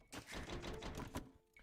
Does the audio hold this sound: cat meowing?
no